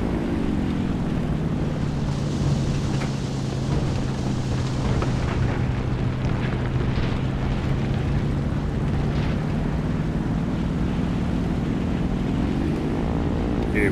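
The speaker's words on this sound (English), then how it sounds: "Oh god, flak." Anti-aircraft flak bursting around a damaged, listing plane in War Thunder, set against a steady, loud drone of propeller engines, with scattered muffled explosions rising out of the engine roar throughout.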